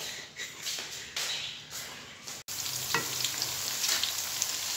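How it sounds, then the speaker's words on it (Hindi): Onions browning in a pan for vegetable pulao give a steady frying sizzle with scattered stirring scrapes, close and continuous apart from a brief dropout midway. "हमने ऊपर रख लिए जी प्याज ब्राउन होने के लिए"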